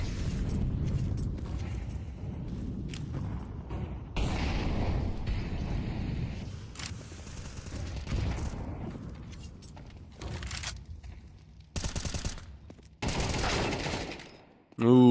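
Gunfire in a first-person shooter esports match comes in bursts of rapid shots and blasts, with a caster talking over the action.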